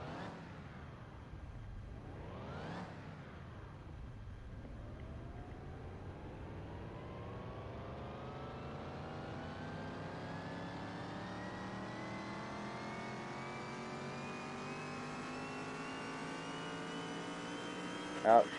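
A stock-turned-aftermarket truck engine of about 910 horsepower revs on a dyno in Car Mechanic Simulator 21, climbing steadily in pitch from idle to a sustained high-RPM roar with a brief burst near the end.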